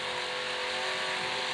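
Drag race cars blast down the strip at a bracket racing event, a loud continuous engine roar that fills the whole moment, steady and close with no talking.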